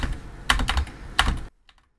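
Keys clatter on a computer keyboard in quick irregular bursts of typing, close and crisp, then stop abruptly into near silence.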